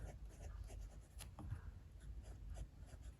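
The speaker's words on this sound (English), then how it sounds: "So let's do a writing sample now." Steel medium nib of an Esterbrook JR pocket fountain pen scratching softly across Clairefontaine 90-gram paper, a faint, close, continuous scratch with brief stroke bursts and no talking.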